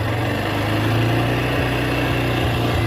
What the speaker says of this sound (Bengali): এই রেগুলেটরটা যদি আপনি এভাবে বাড়াইতে থাকেন অটোমেটিক কিন্তু আরপিএম বাড়তে থাকে